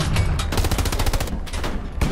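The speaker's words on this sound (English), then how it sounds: "Somebody shooting at us." Rapid gunfire in the WWII video game Hell Let Loose, shooting at a tank, a loud, dense burst of repeated shots that runs almost the whole time with a brief pause near the middle.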